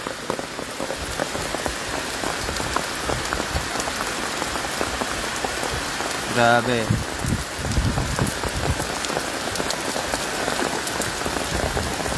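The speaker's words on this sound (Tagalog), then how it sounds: "Ayan, lumakas na naman yung ulan" Heavy rain drums hard and constantly while driving past a wide open field in Balungaw, Pangasinan, with a brief spoken exclamation and a short tonal blip partway through.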